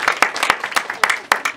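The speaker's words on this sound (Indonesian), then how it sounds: "Tepuk tangan untuk Anda semua ya." A seminar audience applauds for a second and a half: a close, loud burst of many overlapping hand claps in a quick, uneven rhythm.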